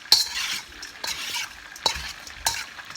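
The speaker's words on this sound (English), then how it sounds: "Let's mix it all up." Boneless chicken feet salad being mixed with sauce in a Lao kitchen: a few sharp clinks of utensils against the bowl over a soft, wet, continuous stirring rustle, close and fairly quiet, with no talking.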